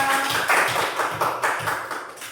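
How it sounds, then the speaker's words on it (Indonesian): A classroom of students claps in a loose, rhythmic burst, the claps falling in quick uneven clusters and thinning out toward the end. "beri tepuk tangan dulu untuk semua"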